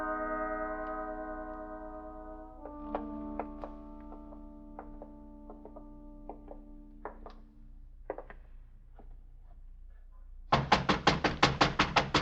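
Knocking on a door in a vintage crime radio drama, a few sharp raps breaking a quiet stretch of music and soft effects, followed at the end by a fast, loud series of knocks, with no talk.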